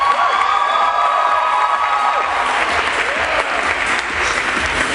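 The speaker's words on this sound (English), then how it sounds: "Please give a round of applause to Mr. Matt Page." A large audience at an engineering student pageant bursts into loud, sustained applause mixed with cheering and whoops, filling the room continuously.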